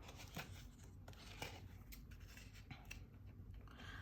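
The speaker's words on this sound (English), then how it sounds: "we need to cut the sides" Scissors snipping the sides of cardstock for a December Daily Christmas album, a steady run of close, crisp cuts and rustling paper with no talking.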